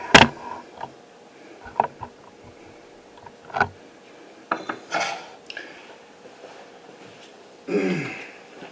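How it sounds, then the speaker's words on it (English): A plain metal skillet is set down on a home kitchen stove, giving a few close, sharp clanks and clatters scattered irregularly across a quiet background. "we're just going to take a normal skillet, set that down there"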